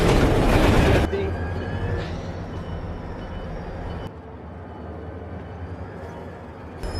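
Freight train wagons roll along rails during a rail yard coupling job, a loud burst of wheel and car noise at first, then a lower steady rumble with faint squeals and clanks.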